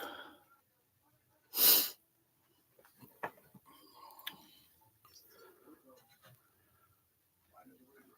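A single sharp sneeze bursts out early, followed by quiet sniffles, breathing and faint murmuring in a quiet room.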